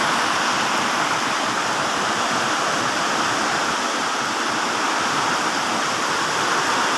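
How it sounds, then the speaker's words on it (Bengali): Heavy torrential rain pouring down under an overcast sky, a dense, loud, unbroken hiss and roar of water with no pauses. "মুষলধারে বৃষ্টি হচ্ছে।"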